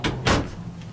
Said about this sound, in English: So I close the doors here.